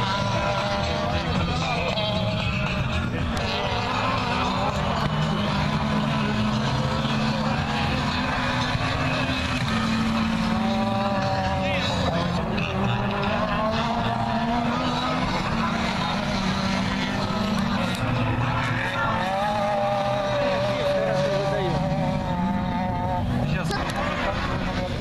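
Autocross race cars overtaking at a 2014 dirt-track event in Cherkasskaya Lozovaya: a continuous loud drone of revving engines rising and falling throughout, with people talking over it.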